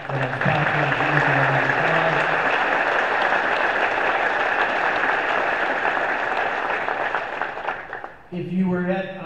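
Sustained applause from a large audience at a senior scholarship ceremony fills most of the clip, steady and loud, then fades near the end as a voice begins speaking.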